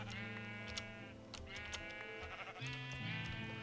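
Sheep bleat repeatedly in a video game, several wavering bleats overlapping against a steady droning game background, fairly loud and close with no talk.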